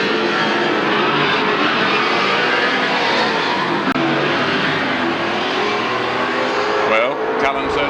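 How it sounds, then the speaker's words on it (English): 1979 AMSCAR touring cars start a five-lap heat at Amaroo Park, a loud, steady roar of many engines blending together, with a commentator talking over it throughout. "Well, Cullen certainly justified his pole position by that start"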